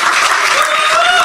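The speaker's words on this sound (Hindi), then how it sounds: "जम से ताली बजाओ भाई" A comedy-show audience claps loudly and steadily, a dense wash of applause close by that holds without a break for the whole moment.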